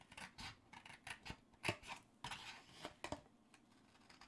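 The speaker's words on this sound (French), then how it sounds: "Une fois que j'aurai fini de découper, tu verras mieux." Scissors snip through paper while shaping a diagonal Stampin'Up! papercraft box, a quiet run of short irregular cuts and rustles with no talking.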